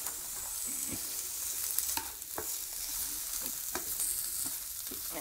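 A Chinese-style stir fry mix sizzles loudly in a hot pan, a continuous close crackle with a few sharp clacks and scrapes as it is stirred, and no voices.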